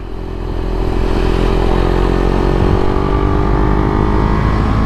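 A 2022 Husqvarna Vitpilen 401 motorcycle engine drones steadily at close range on damp roads, a continuous loud rumble with a slight rise in pitch as the bike rides along.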